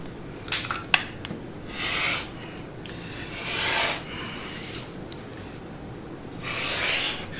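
A rotary cutter runs along a ruler to trim a quilt, with a few sharp clicks and knocks at the start followed by three separate drawn-out rasping cuts at an even pace. No speech.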